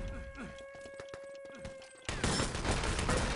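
Rifle gunfire in the shooter Enemy Territory during a 6-on-6 tournament match, rapid cracks under commentary voices, followed by a louder, dense burst of shots near the end.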